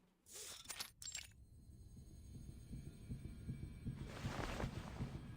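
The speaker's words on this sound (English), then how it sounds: "Her heartbeat drums in her ear." Heartbeat sound effect from the video game Reverse 1999, a low, steady thumping pulse that continues through most of the stretch under a faint hum, after a brief brighter burst near the start.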